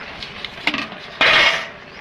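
A metal lid set down over a pan of tilapia fish curry with onion, giving a short bright clatter and brief scrape of metal, preceded by faint kitchen clinks, close by.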